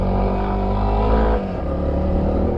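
A Honda CRF300L dual sport motorcycle rides a dirt trail, its single-cylinder engine droning loud and steady close by, with a brief throttle swell before settling back.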